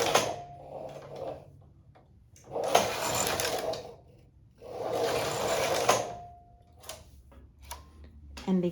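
A knitting machine carriage with ribber knitting short-row lace, sliding back and forth in three long mechanical rattling passes with ticking clatter between them, fairly close, with no one talking.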